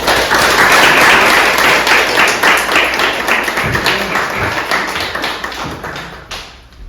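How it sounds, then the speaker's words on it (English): An audience at a Youth Environmental Leadership Program graduation applauds the program leaders with dense, sustained clapping that stays loud throughout, then thins out near the end. "I want you to join me in giving a special round of applause to Stephanie and Virginia, the leaders at YELP."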